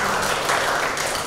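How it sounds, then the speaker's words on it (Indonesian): Classroom applause from students, a short dense burst of clapping heard close and fairly loud, lasting about a second. "Tepuk tangan."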